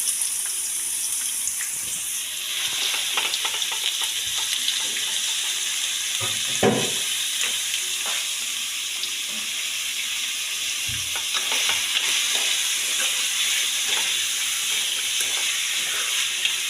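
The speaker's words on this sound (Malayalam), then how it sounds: "നമുക്ക് സവാള ഇടാം. സവാള നല്ലോണം വഴറ്റിയെടുക്കണം." Onions sautéing in a pan for chicken curry, a steady hiss of frying with scattered stirring scrapes and a louder clunk partway through, continuous throughout.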